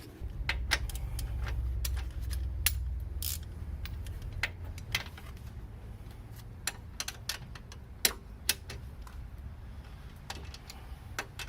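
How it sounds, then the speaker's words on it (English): Wrench bringing strut bolts to final torque on a 2008 Astra during an axle replacement, a faint scatter of sharp ratcheting ticks and clicks at irregular intervals over a quiet, low garage hum. "I can put final torque on, like the strut bolts and the tie rod end."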